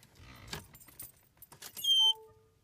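Car keys jangling as they are pulled from the ignition of a Land Rover Discovery 3, a short metallic rattle followed by a brief high electronic chime from the car, close by with no talk.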